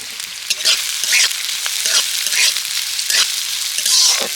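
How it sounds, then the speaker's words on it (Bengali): Chopped onion fries in hot oil for aloo chop, a close, continuous hissing sizzle with repeated louder bursts as it is stirred roughly every half second. "তো তেলের মধ্যে প্রথমেই আমি দিয়ে দিচ্ছি পেঁয়াজ কুচি। পেঁয়াজটাকে এখন হালকা করে ভেজে নেব।"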